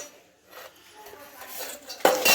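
Sugar is tipped into milk in a pot and stirred with a metal spoon, producing soft scraping and rubbing that builds toward a sharp clink of spoon against the pot at the end, close and without speech.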